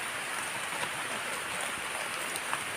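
Continuous patter of rain falling on surfaces, a dense steady hiss with occasional louder drops, no talking.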